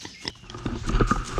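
Pigs on a farm give close, low grunts and snuffles with a few uneven thumps and shuffles, growing busier and louder toward the end.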